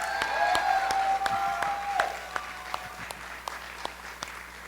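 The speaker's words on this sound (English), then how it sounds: "can we just give all of them one more round of applause?" Audience applause for graduates at a summer graduation ceremony, a dense wash of clapping with sharper individual claps standing out at an even rhythm and a brief whistle early on, fading slightly toward the end.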